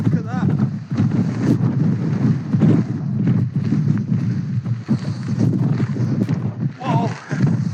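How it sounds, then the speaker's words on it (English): Gale-force winter storm wind gusts roar and buffet the microphone continuously at a wild camping spot near a cove, loud and close, with someone talking over it. "The wind is crazy, man."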